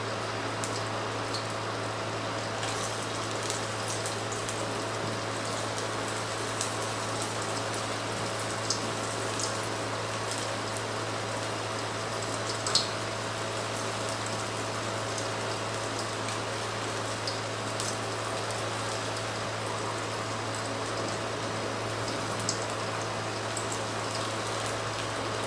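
Ragda pattice patties shallow frying in a small amount of hot oil, a steady soft crackling sizzle with faint pops running evenly throughout, fairly quiet with no voices.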